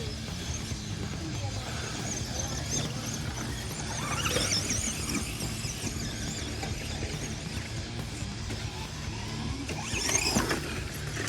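A Midnight Pumpkin RC basher truck drives around outdoors, its electric motor whining and squealing at a steady level with a couple of louder surges partway through, while faint voices carry underneath.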